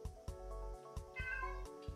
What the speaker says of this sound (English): One of my cats is just going absolute nutso.